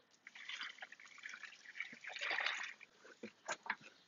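Water from an aquaponics filter poured onto backyard garden plants and a peach tree, heard as close, uneven splashing and dribbling that comes and goes in bursts over a few seconds.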